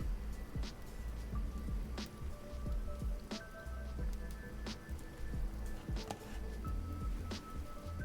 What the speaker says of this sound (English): Let's keep the rain going a little bit.